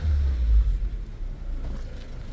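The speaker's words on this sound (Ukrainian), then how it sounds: "Давайте послухаємо роботу двигуна." A Honda Concerto 16-valve engine runs with a low, uneven rumble, heard close and fairly loud without any talk.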